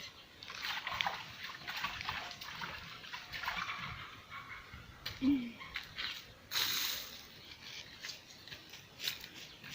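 A traditional African pot being washed outdoors with water, faint sloshing and splashing in short uneven bursts, with a person talking now and then.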